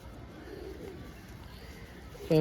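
Pigeons coo softly at a bird market, a faint low murmur of calls heard at a distance beneath steady background hubbub, ending in a brief louder handling noise.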